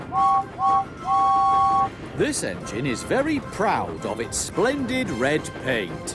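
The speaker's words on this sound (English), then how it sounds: "And a whistle that sounds like this." A toy steam engine, the red Tomy Trackmaster James, blows a two-tone whistle in three clear toots, the last one held longest. A voice follows and talks over the quiet background.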